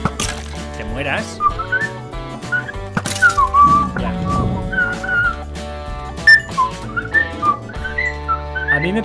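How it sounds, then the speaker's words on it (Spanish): Someone whistles a wavering melody over busy game noise and overlapping voices during a Minecraft session with friends. "¿Quién está silbando?"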